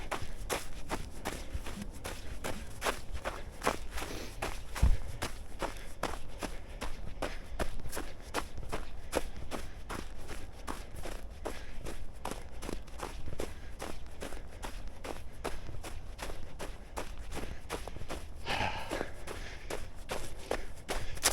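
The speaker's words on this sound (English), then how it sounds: "Hear those footsteps on the ground." Rapid running footsteps thud steadily on a winter trail at night, a fast even rhythm close to the microphone that continues throughout over a soft background hiss.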